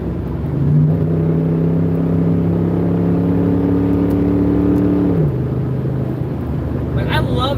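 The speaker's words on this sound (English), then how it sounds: "it's got a killer exhaust note on it" A car with a T5 manual transmission swap and a loud aftermarket exhaust revs with a droning, harmonic engine note that holds steady, then drops in pitch as the driver shifts into second gear. The engine rumbles on nearby at a constant loudness.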